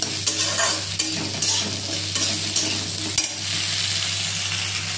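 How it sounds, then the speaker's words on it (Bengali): Okra tossed into a pan of browned onions, frying with a steady loud sizzle while a utensil stirs and scrapes in irregular clattering bursts, plus a low constant hum underneath. "এখানে ভিন্ডিটা অ্যাড করলাম।"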